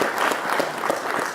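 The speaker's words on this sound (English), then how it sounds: "So just a round of applause for our panelists today." An audience applauds panelists at a healthcare conference, a dense, steady patter of many hands clapping at moderate volume, with no voices over it.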